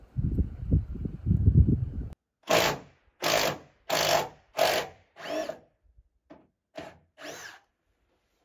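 A power drill backs ledger lock screws out of a log on an off-grid winter log cabin build, whirring in a series of short, loud bursts with pauses between them, after a few seconds of rough handling noise.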